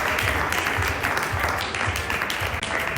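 An audience at an annual fundraising dinner banquet and awards gala applauds a $1,000 donor, with steady, dense clapping filling the room for the whole stretch and faint talk underneath.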